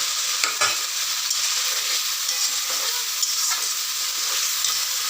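Potatoes and onions frying in a pan with oil and bay leaf, a dense, continuous bright sizzle close by with a few faint stirring knocks, no talking.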